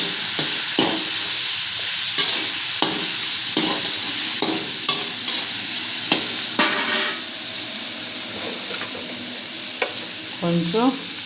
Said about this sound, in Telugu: నెక్స్ట్ మనం టమాటో, ఈ చికెన్ ఉంది కదండి, ఇది వేడి చేసి ఫ్రై చేసుకుందాం దీంట్లో